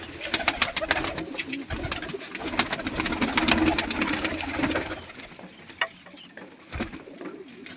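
Several pigeons kept in a loft in Kashipur coo at night, a steady bed of low burbling calls with sharp flutters and clicks, fading quieter toward the end.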